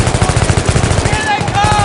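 Rapid automatic gunfire in the Battlefield 3 video game, a loud, dense burst of rhythmic shots lasting nearly two seconds, close and continuous over battle noise.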